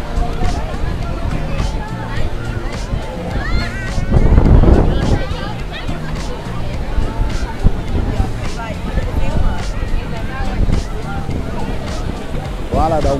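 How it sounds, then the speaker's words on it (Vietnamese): Strong morning wind at Vung Tau beach during the Tet holiday, buffeting the microphone in a steady rumbling roar with a louder gust midway, under a crowded beach's distant chatter and a voice talking. "tại buổi sáng này rất là gió lớn"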